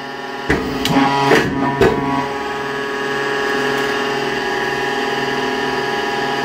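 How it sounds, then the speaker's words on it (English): A hydraulic pump starts up and runs in a workshop press used to shape copper Christmas ornaments, a few sharp metallic knocks at first, then a loud, steady droning hum. "Hydraulic pumps are really noisy."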